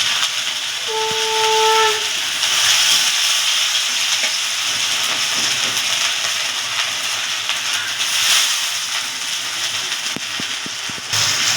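Grated potato and carrot land in hot oil tempered with nigella seeds and are stirred, making a loud, continuous hissing sizzle with a brief tonal squeal near the start and occasional utensil clicks, no voices.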